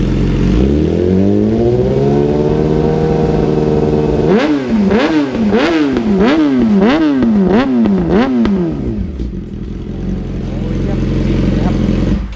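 A Yamaha YZF-R6 600 cc inline-four sport bike with a Firetorch exhaust idles, then its engine is blipped through about seven sharp, rising-and-falling revs in quick rhythm before settling back to a steady idle, loud and close.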